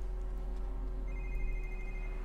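A mobile phone rings inside the video game 007 Quantum of Solace, a steady electronic ringtone over a low constant hum of game ambience, with no talking.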